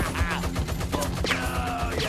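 Rapid gunfire in the Peaky Blinders VR game, a dense close burst of repeated shots mixed with crashing effects and whooshes throughout.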